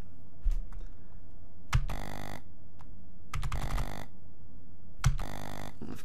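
Three short bursts of keyboard typing, quick clattering runs of keystrokes separated by quiet pauses, with a few isolated key taps between them.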